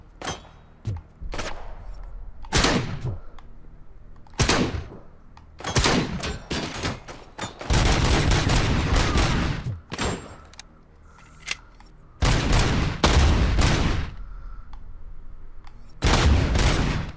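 Gunfire in Robocop: Rogue City comes in loud bursts, some single sharp shots and some longer rapid volleys, spaced unevenly across the stretch with brief quiet gaps between.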